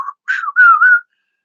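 A voice imitates a man whistling at someone, a short rising-and-falling two-part whistle, clear and close in a quiet room.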